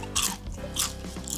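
Someone bites into crispy, fried frozen bento food with bamboo shoots, giving a few close, crackly crunches between softer chewing sounds.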